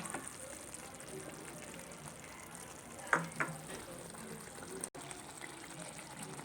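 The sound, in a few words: butter sizzling as it is added to frying paneer masala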